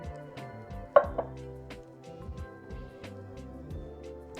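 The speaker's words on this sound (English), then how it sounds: "Let's spoon some of this out and get into it." A spoon scooping salmon salad out of a bowl, producing a series of soft, close clinks and taps with one sharper knock, in a quiet room.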